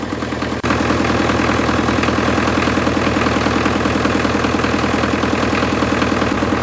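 Farm engine idling while warming up: a loud, close, steady rhythmic chugging with a fine knocking pulse, running evenly without a break and picking up slightly in level just after it starts.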